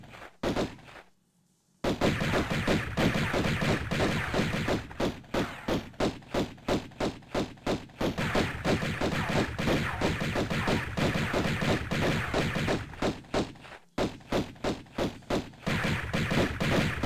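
Rapid gunfire in Tomb Raider 1, loud, dense bursts of shots running almost continuously with two brief pauses.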